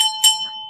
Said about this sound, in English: Do you know about the wine bell?